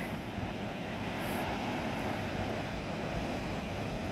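Waves at Shek O beach in Hong Kong wash in as a continuous broadband rush, steady and moderately loud with some wind buffeting the microphone, and nobody speaking.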